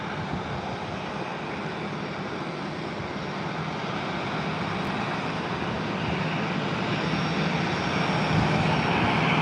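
Jet aircraft engines roar steadily at San Diego Airport as planes taxi and take off, a broad continuous rumble that swells slightly louder toward the end, heard at a distance with no voices.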